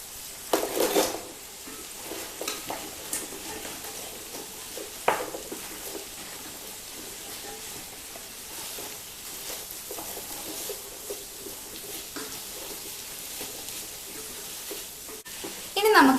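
Fried soya chunks tipped into a chilli gravy, a close, loud sizzle with spoon stirs and pan clatter, strongest at the start and end, under a steady background hiss.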